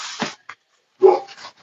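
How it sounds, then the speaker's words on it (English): A pet dog at home lets out a couple of short, sharp barks and yips with a quiet gap between them, fairly close and with no talking. "My dog's barking."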